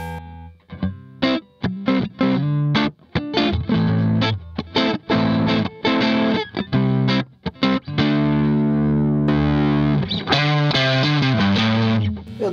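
Distorted electric guitar accompaniment played through a Laney IRF-Loudpedal amp, with choppy rhythmic chords and short stops, then a longer sustained stretch of gritty, driven tone, loud and alone.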